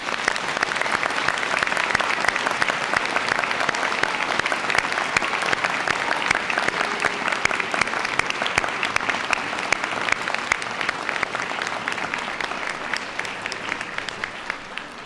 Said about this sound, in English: Please can I ask everyone to join me in a round of applause for our graduates today.